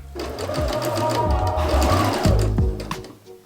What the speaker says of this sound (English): Okay, now we're gonna sew the side seams together.